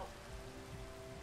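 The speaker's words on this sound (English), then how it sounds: "Where it just rains whenever I record" Steady rain falls outside a house, a soft, even wash of patter heard faintly and continuously in the background with no voices.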